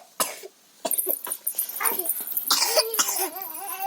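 A series of sharp, close coughs, several in quick succession with throaty, wheezy breaths between them, at home, followed by rougher hacking.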